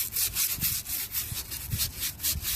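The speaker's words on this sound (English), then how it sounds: "I got a little scrub brush here. And we're just gonna go around and scrub this off real good." A small scrub brush scours the film off a new tire, producing a steady, close, rhythmic bristly rubbing with even back-and-forth strokes.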